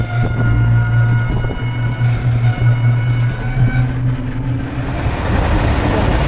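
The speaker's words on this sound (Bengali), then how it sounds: "রেলগেটে আটকে গেছি, বুঝলে।" A loud, low rumbling train passes close by at a railway level crossing, with a steady droning tone and rattling that swells into broadband noise at the end.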